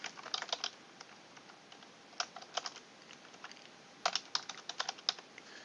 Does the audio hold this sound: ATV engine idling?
no